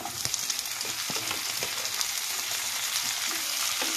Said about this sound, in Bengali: টমেটো কুচিটা দিয়ে দেব।